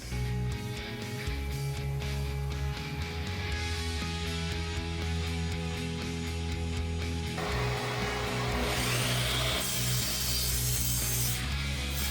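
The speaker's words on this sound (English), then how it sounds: "go ahead and run the test with the dust collector running with our stock dust collection" A miter saw whines steadily as it cuts through boards in a workshop while its stock dust collector runs underneath, a continuous loud motor drone with a rougher cutting texture toward the end.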